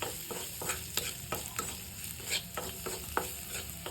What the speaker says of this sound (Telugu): దీన్ని ఇలా ఫ్రై చేసుకుందాం.